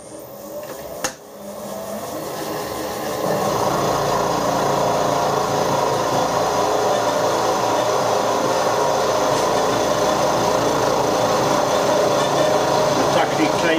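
A milling machine grinds steadily to remove a broken stud, a continuous close mechanical whir and cutting rasp that starts after a sharp knock and runs on without pause; a voice talks briefly over it.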